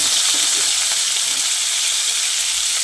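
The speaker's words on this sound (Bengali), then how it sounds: "এবার ফোড়নটাকে কয়েক সেকেন্ড ভেজে নিচ্ছি।" Whole spices for a vegetarian jackfruit dish crackle and sizzle in hot oil, a steady close, loud hiss with faint scattered pops and no voices.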